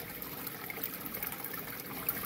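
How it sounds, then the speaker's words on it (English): Aquarium filter parts get rinsed in tank water, giving a continuous soft splashing and trickling wash at close range with no talk. "I'm going to rinse these out"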